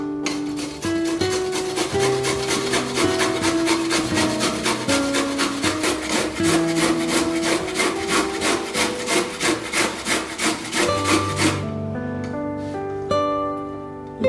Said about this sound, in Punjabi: ਗਾਜਰਾਂ ਅਸੀਂ ਰਗੜ ਲਈਆਂ ਨੇ